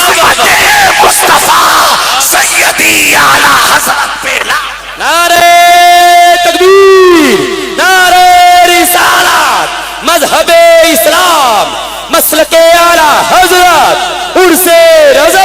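A large crowd at an Urs gathering shouts religious slogans in loud, rhythmic call-and-response bursts, voices chanting together in repeated surges after a leader's call.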